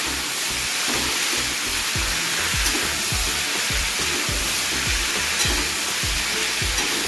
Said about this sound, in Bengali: আলুটা ভেজে নেওয়ার সময় সামান্য পরিমাণ নুন হলুদ দিয়ে ভাজবে